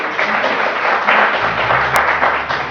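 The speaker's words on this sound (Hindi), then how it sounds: "आजम साहब के लिए बहुत सारी तालियां।" A studio audience on a Pakistani TV morning show claps continuously, a dense, loud, steady round of applause lasting the whole stretch with no talk over it.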